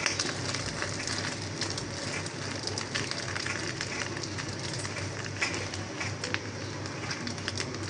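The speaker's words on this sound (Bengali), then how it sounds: "তুলে বাবার জন্য ডিম ভাজি করে নিচ্ছি পেঁয়াজ মরিচ দিয়ে।" Eggs fried with onion and chili in a home kitchen give a steady, dense sizzle and crackle that holds evenly throughout, fairly close and with no voices.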